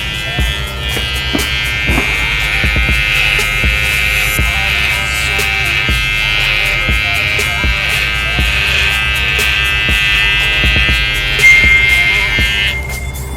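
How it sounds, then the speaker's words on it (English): A Red by Kiss electric hair clipper buzzes steadily and loudly close by, with a bright high-pitched whine and occasional clicks and knocks as it moves. "Let's try this clipper by Red by Kiss."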